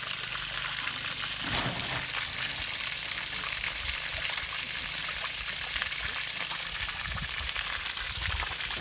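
Strong flow of well water from a solar-powered pump gushing out steadily outdoors, a continuous loud rush, with brief low thumps along the way.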